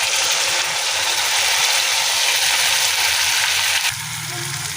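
Mustard paste hitting a hot pan for Bengali hilsa curry with eggplant, giving a steady, close hiss and sizzle that runs throughout and shifts slightly near the end.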